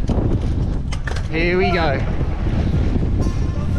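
Strong typhoon wind buffets the microphone with heavy, gusty low rumble throughout on a mountain bike trail, while a voice speaks briefly in the middle.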